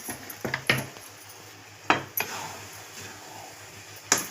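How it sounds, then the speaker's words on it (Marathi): A spoon stirs a dry spice mixture of dry ginger and fennel in a metal pot, giving a few scattered clinks and scrapes with quiet gaps between them. "हे बघ सुंठ बडीशोप पण टाकून घेतली यात. आता मस्तपैकी हलवून घेऊ."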